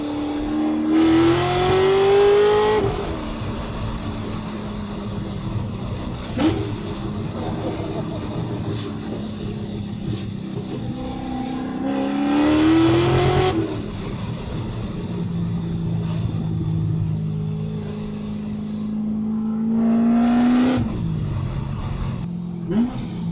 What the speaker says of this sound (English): You guys can just hear that whistle. Sounds like a fighter jet.